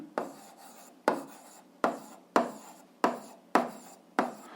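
A hand writes an algebra equation with pen or chalk, a fractional rational equation: seven crisp scratching strokes, each starting sharply and then trailing off, evenly spaced, quiet and close, with no voice.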